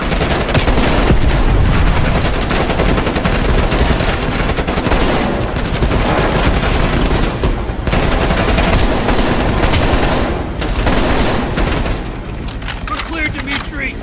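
Sustained automatic gunfire and heavy combat noise during a helicopter flight in Call of Duty: Black Ops Cold War, a dense, continuous barrage that stays loud throughout and eases slightly near the end.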